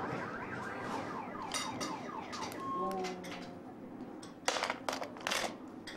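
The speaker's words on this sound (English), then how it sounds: "That truck just set off the car alarm" A car alarm on a street in San Juan, Chile, set off by a passing truck, cycling through rapid warbling and whooping siren tones at moderate distance, with sharp clicks and bursts near the end.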